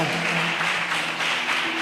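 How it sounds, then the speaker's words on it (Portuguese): A church congregation applauds during a sermon, a steady wash of clapping at moderate distance with soft sustained musical tones underneath, fairly quiet throughout. "Você pode aplaudir o nome desse Deus"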